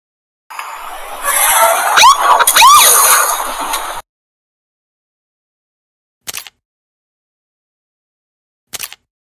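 A police car siren wails loudly and close for a few seconds with rising and falling sweeps. Silence follows, broken by two brief whoops.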